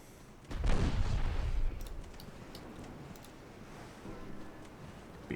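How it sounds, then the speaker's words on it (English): Muffled weapon fire from a World War II US campaign strategy game: a heavy burst of booming shots lasts about a second, then fades into a low rumbling battlefield background with faint ticking sounds. "Firing some shots."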